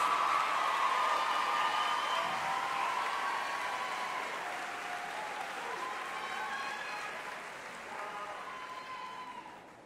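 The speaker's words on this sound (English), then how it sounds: "Audience, join me in applauding these students." Graduation audience applause at a high school ceremony rolls on as a broad, sustained wash of clapping, fairly distant, slowly fading toward the end.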